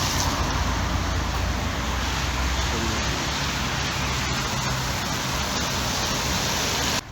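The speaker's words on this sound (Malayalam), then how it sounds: "മഴ കേട്ടോ, മഴവെള്ളം, ചെടിവെള്ളം." Rain and traffic heard from inside a car driving in Oman, a dense, steady rush of rain and road noise with low engine rumble, loud and unbroken throughout.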